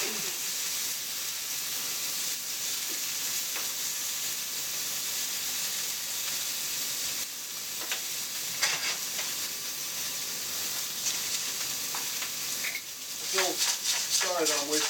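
Food sizzles and fries steadily in a pan on a home stovetop, a constant hiss running throughout with occasional stirring clatter and a brief louder burst near the end.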